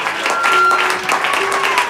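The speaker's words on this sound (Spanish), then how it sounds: "Son de ese aplauso con vida." Applause from an audience at a lively church service, dense rapid clapping throughout, loud and close, with a faint tonal background.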